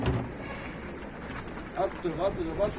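Tumbler pigeons at a coop give low, soft coos against a constant hum of outdoor background noise, the calls coming faint and mid-distance over a few seconds.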